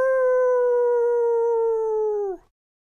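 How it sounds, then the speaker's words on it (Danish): A large wolf howls on a small hilltop under moonlight: one long, steady, clear howl held for over two seconds, loud and close, then trailing off sharply, with nothing else around it. "en stor ulv, der stod på toppen af en lille bakke og hylede i måneskinnet med strakt hals"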